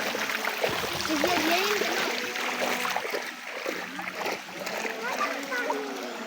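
People wade through water, their steps making soft, repeated splashes and sloshing under steady chatter from children and adults close by.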